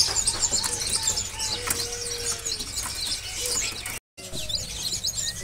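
Caged birds at a bird market kiosk chirp and whistle, including Chinese hwamei (poksai mandarin), with scattered high calls and short tweets over a low background hum, fairly quiet and continuous.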